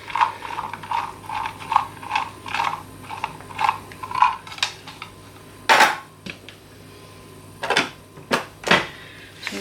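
Rainbow couscous with sultanas and dried apricots being stirred in a pan, giving a steady run of close, sharp clicks and scrapes with a few louder knocks from the utensil.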